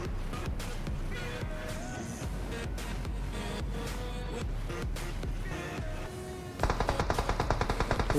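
A minigun fires in a Free Fire-style shooter, a rapid, rattling burst that surges louder near the end over dense game effects and other gunfire, with someone talking throughout.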